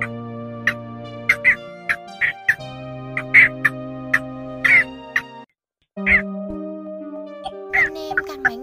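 Cinnamon bittern and yellow bittern calls played as a bird lure recording, short repeated croaking and quacking notes in an irregular rhythm over a steady tonal background, loud and close.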